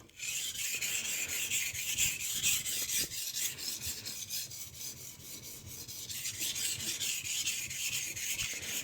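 A kitchen knife is drawn in steady, rhythmic strokes across a sharpening stone, giving a close, continuous gritty rasp that pulses with each pass and carries on without any talk.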